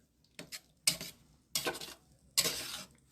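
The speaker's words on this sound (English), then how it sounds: "Just stir that all around in there." Butternut squash queso dip with red tomatoes is stirred around in a pot with a utensil, giving four distinct scraping, sloshing strokes in an uneven rhythm, close and fairly loud, with no talk.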